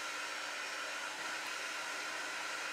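Steady close whoosh of a hair dryer drying acrylic paint on a painting of a young child and a snowman, a constant airy blowing hum with no break and no talking.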